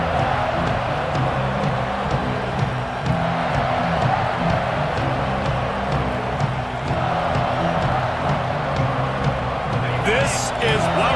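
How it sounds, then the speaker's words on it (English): A stadium crowd roars steadily in a college football video game, Oklahoma versus Texas A&M, with a dense, constant wash of cheering that runs throughout while commentators talk over it. "This crowd ready to make its presence known."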